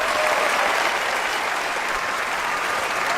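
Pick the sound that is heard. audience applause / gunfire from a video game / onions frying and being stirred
audience applause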